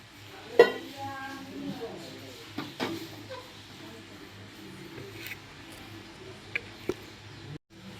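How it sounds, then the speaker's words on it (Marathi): A metal cooking pot holding jaggery and water clanks down onto a gas stove, one sharp knock followed by a few quieter clinks and scrapes against a low background. "तर आता मी पातेलं गॅसवरती ठेवलेलं आहे,"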